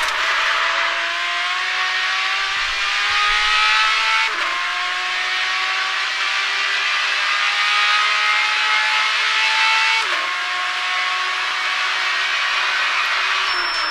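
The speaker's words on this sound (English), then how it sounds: "let you guys hear the engine sound of this car, and I'll boost the sound for you guys just as I'm going off the track here" In the Assetto Corsa racing game, a car engine drones loud and steady while climbing in pitch, broken by distinct gear shifts where the tone drops and rebuilds, with no talking.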